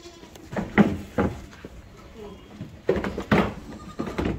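Large long-haired Sojat goats at a farm in Nallasopara bleat a few times in short bursts, near and moderately loud, with people talking nearby.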